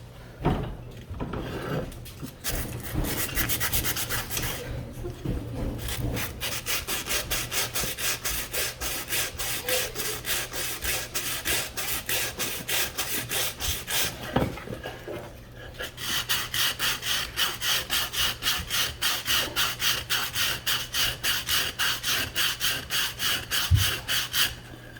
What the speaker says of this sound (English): You got to make sure you get every little bit of rust off,